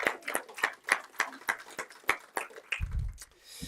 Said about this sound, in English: I would like to give him a round of applause for all he's done to celebrate Fairport alumni.